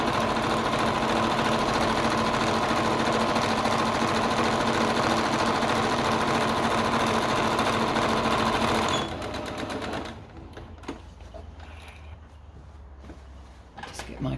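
A sewing machine stitching a pair of shorts back and forth runs loud and steady in a continuous hum, then stops abruptly, leaving only faint handling noises.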